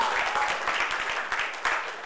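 Scattered clapping from an audience at a graduation ceremony for a social impact leadership program, a steady patter of hands in a hall with some broken-up, uneven claps across the short stretch.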